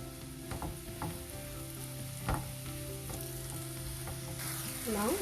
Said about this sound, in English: Now the butter is melted. I'll fry these mushrooms.